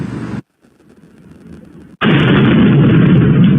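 A loud blast cuts off abruptly, then a low rumble builds before a second powerful boom erupts and roars on.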